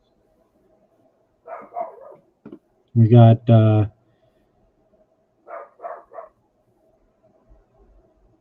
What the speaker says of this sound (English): I hear Bandit barking.